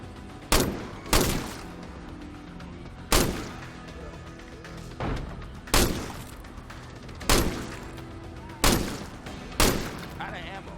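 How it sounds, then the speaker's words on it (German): Gunfire in the video game State of Decay comes as loud, sharp single shots at irregular intervals of one to two seconds, each with a short decaying tail over a low background rumble. "Wo ballern die denn da?"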